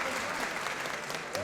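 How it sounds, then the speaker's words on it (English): Noisy wrestling crowd in a Newcastle arena, dense applause and crowd roar filling the whole short stretch at an even level. "Noisy crowd here in Newcastle, of course."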